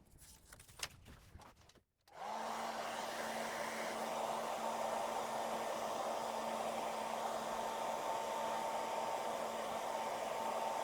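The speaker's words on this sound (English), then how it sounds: "I am going to resort to a hairdryer" A hair dryer blows hot air onto chrome-delete trim on a 2022 Mini Cooper SE, starting after a brief click and a short pause and then holding a steady, loud, whooshing hum with a faint tonal whine.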